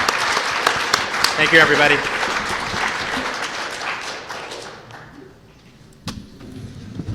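An audience applauds panelists at a conference session, a dense burst of clapping that fades over several seconds while a speaker offers brief thanks near the start.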